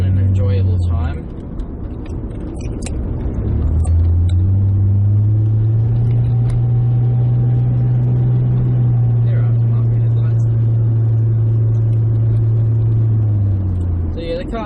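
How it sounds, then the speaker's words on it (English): A Nissan Skyline R31 gives off a steady, loud low-pitched engine and exhaust drone heard from inside the car, holding a constant tone for about ten seconds with a brief dip early on, while someone speaks briefly at the start. "the car's not too loud. It's a little bit drony."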